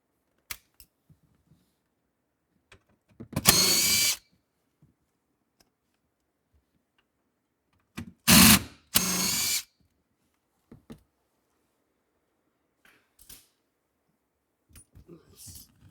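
Power drill driving out the number 10 bolts holding the radio in a 2010 Ferrari California dash, in two close whirring bursts, the second split into two short runs, with quiet handling clicks between.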